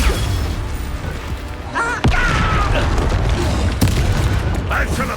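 A Bombarda spell explodes in the Hogwarts Legacy video game, a heavy boom landing around two seconds in amid ongoing combat effects, with another sharp hit later and a shouted spell name among the game sounds.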